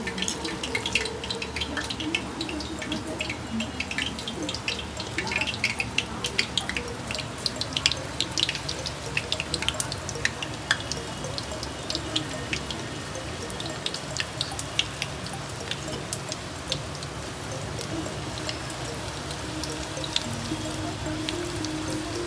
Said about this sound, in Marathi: पावसाचं पाणी उडतं. हा ना पाऊस पण खूप जोरात आला इथे.